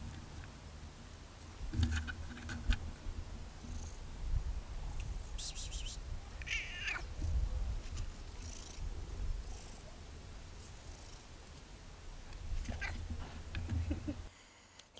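A cat purrs in a low continuous rumble close by, with occasional small chirps and a brief high meow-like call amid light rustling and outdoor background noise.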